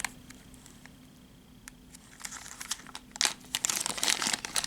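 A small plastic bag crinkles close up, with quiet scattered rustles at first that build into dense, sharp crackling toward the end, with no voices.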